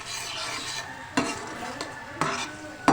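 Spices being stirred and mixed in a cooking pot while making a creamy restaurant-style chicken gravy: a steady scraping swirl runs throughout, with a few sharper clinks of the spoon against the pot.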